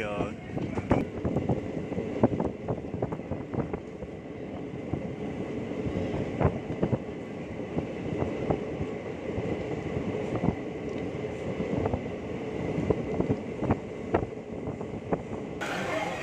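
A DEMU passenger train running on the Kolar to Yelahanka line in rain, arriving at Dalasanur station, with steady rumble and repeated clattering of wheels over rail joints throughout, under faint background voices.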